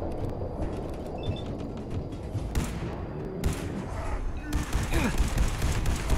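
Gunfire rattles in Fallout 4's Far Harbor expansion, with dense bursts of rapid shots and louder blasts stacking up across the scene, and a player talking over the action.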